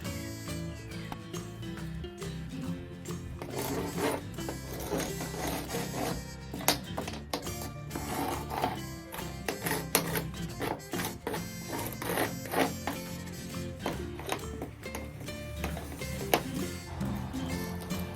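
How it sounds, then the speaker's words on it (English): Scraping loose old glazing putty off an antique wooden window, a dense run of rapid scratching and crumbling strokes close to the microphone, steady for the whole stretch with no talk. "First thing I'm going to do is scrape off everything loose."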